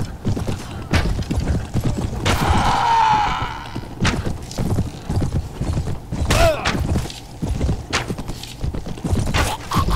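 Horse hooves clip-clop in the medieval video game Prophesy of Pendor, a rapid run of clear, close hoof strikes with a brief whinny-like cry and thuds, under occasional speech.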